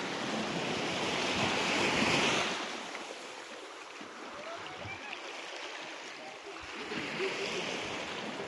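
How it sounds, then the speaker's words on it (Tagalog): Heavy, rough sea surf roaring continuously, with broad crashing waves swelling loudest near the start and again at the end, buffeted by wind noise on the microphone and no talking. "Namumuti talaga ang dagat sa sobrang lakas."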